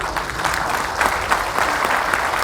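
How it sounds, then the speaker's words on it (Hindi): An audience at an Allahabad Medical Association event claps steadily, a dense patter of many hands with a few sharper clap bursts, fairly close and sustained. "तालियों में कंजूसी नहीं।"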